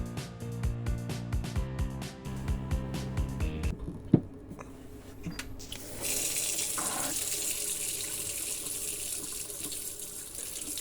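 A tap opens partway through and water gushes steadily into a sink while the pipes drain during removal and fitting of a faucet, following a stretch of faint music and a sharp knock.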